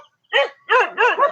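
A dog near a small church in the Philippines lets out three quick, loud barks, the last one doubled, close by with no talking over it.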